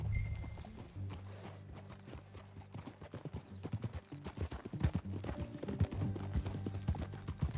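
Horse hooves clip-clop in a steady riding rhythm in the Western video game Red Dead Redemption 2, close and continuous over a low background score.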